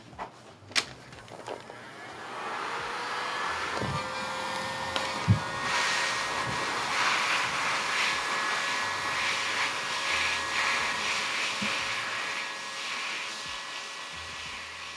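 Heat gun shrinking heat-shrink tubing on a digital coax cable: after a few clicks and knocks, a steady blowing whine ramps up and holds, close and moderately loud, with occasional taps.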